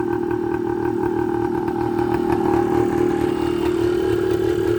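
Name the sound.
1980 Suzuki TS125 motorcycle engine running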